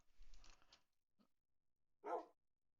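Minecraft dog or wolf giving a short, faint bark followed by a soft yip, with a brief scuffling noise just before, in an otherwise quiet game scene.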